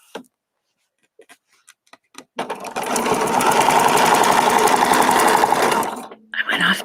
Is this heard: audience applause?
no